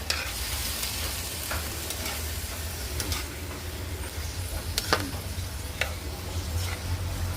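Native shrimp stirred in a frying pan give a constant close sizzle, broken by sharp, irregular utensil clicks and scrapes against the metal. No one talks.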